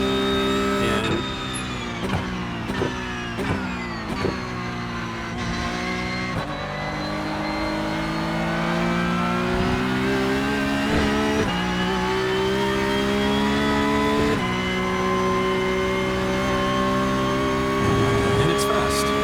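A 992.2 Porsche GT3 Cup race car engine in iRacing howls through upshifts and downshifts on a lap, with a steady high-revving drone, sharp gear changes and rising pitch sweeps, while someone talks over it.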